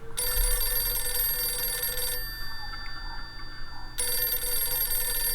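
A telephone rings with a bright electronic warble, sounding for about two seconds, pausing briefly, then ringing again, clear and close.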